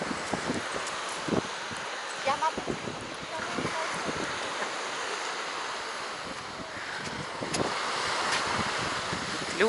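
A cold, icy wind blows across a sunny beach in Zelenogradsk, buffeting the microphone in uneven gusts. Soft surf and faint background sounds mix beneath a continuous rushing roar.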